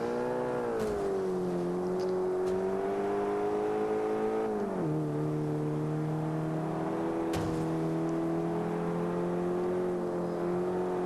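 A car engine in Forza Motorsport 5, in the modern sport compact class, holds a loud, sustained drone with harmonic whine, pitch easing down midway as the car shifts, then holding steady with occasional clicks.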